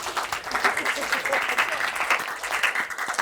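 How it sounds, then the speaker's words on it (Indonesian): Audience applause in a university lecture hall during an Indonesian teaching session, a steady dense wash of clapping from many hands lasting throughout, fairly loud and uninterrupted. "Tepuk tangan."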